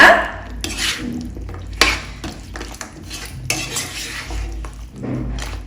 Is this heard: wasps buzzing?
no